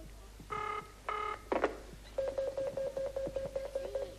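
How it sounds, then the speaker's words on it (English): A telephone rings at the other end of a call: a few tone bursts then a repeating ringback pattern, thin and moderately quiet as if heard through a handset, with no talk over it. "It's ringing."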